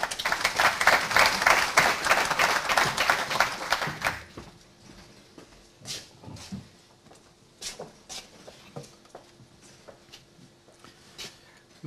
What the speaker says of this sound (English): I'd like you to give a round of applause to George Graham.